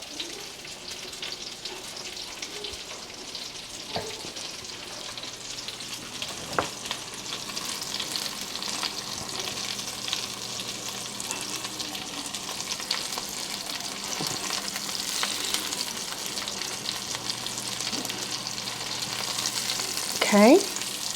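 Chicken pieces for parmesan chicken fry in a pan with a steady broad sizzle, with occasional stirring clatters and a brief louder scrape near the end; no talking.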